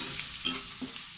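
Sliced onions frying in oil to make crisp birista for Bangladeshi aloo bhorta, a short steady sizzle with a few soft stirring scrapes.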